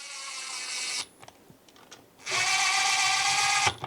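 A power tool runs bolts into a Suzuki Z400 engine in two close, high whirring bursts, the first about a second long and the second longer, separated by a pause with light handling clicks.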